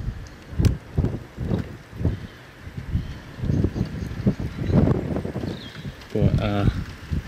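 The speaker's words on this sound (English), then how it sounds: "And now the wind's starting to gust as well here." Gusty wind during a thunderstorm in Greater Manchester, UK buffets the microphone in uneven surges, swelling and dropping, while a person speaks over it.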